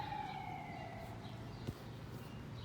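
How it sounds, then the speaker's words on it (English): A passing ambulance siren wails faintly in the distance, rising and falling over a steady bed of traffic noise, with a single short thump partway through. "The same ambulance."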